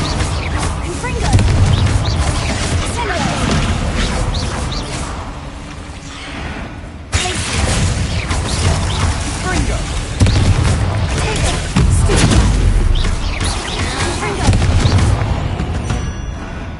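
Confringo blasting spells explode in a Harry Potter video game, with heavy booming blasts and rumbling debris, loud and dense, one sharp burst partway through, under a battle soundscape and some speech.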